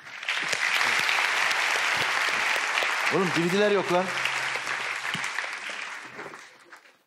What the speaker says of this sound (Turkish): Gönder Sarp'ı alkışlarla.